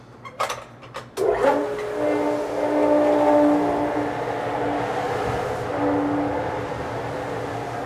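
A 750 Brine Maker pump starts up after a switch is flipped, a few clicks and a thump, then a steady tonal mechanical hum with a whining drone that keeps running, close and moderately loud.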